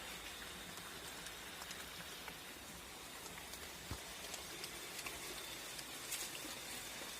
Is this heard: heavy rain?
yes